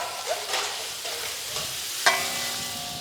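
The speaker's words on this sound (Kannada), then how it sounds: "ಇದಕ್ಕೆ ಬೇಯಕ್ಕೆ ಎಷ್ಟು ಬೇಕೋ ಅಳತೆಗೆ ಅಷ್ಟನ್ನು ನೀರು ಹಾಕೋಣ." Water poured into a pan of ash gourd sambar and stirred, a continuous rushing hiss with a single sharp metallic clank of the spoon against the pan.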